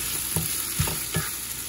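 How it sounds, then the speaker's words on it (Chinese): Bamboo shoots tossed in a hot wok, a continuous sizzle broken by three evenly spaced scrapes of the spatula, close up and without voices. "我们现在把那个笋，竹笋把它放下去炒。"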